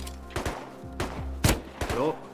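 Several sharp gunshot bursts crack out in an irregular sequence with synthetic game-like echoes from the video game Rust, close and punchy, with faint low background hum.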